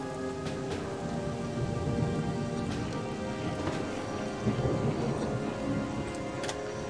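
Steady rain falls on a surface with scattered drips and low rumbles underneath, moderate and continuous without voices.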